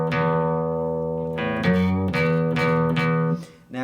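An electric guitar set to a clean tone plays a short phrase of plucked notes and chords, each attack ringing out and overlapping, close and alone.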